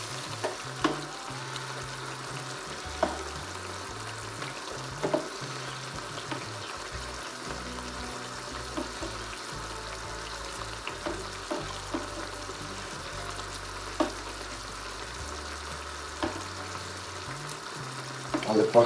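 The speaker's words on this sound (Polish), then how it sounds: "Więc gdy gotuje nam już się sos, sami widzicie, jak to wygląda, zmniejszamy troszkę ogień i przekładamy makaron." Tomato sauce for pasta cooks in a pot on lowered heat, a soft steady bubbling sizzle with occasional clinks and stirring scrapes, close but fairly quiet.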